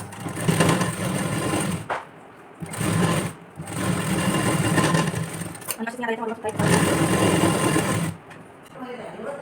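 A sewing machine stitches a padded blouse in loud, rapid bursts separated by short pauses, with a person talking during the stops.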